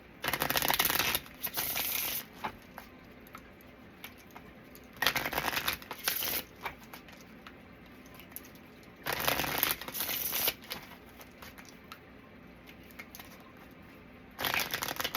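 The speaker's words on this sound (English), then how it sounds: "Let's get one more shuffle, actually." Four bursts of riffled playing cards, each a second or so of quick fluttering, separated by quieter handling and soft rustles.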